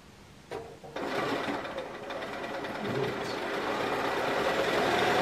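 A sewing machine stitches around the top rim of a fabric Easter basket, starting with a couple of short taps and then running in a steady, close, continuous whirring stitch rhythm.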